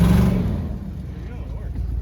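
A 2002 Ford F150 one-ton truck fitted with an electric locker revs its engine at night on a test drive as the wheels spin, a loud low roar that eases off over a couple of seconds.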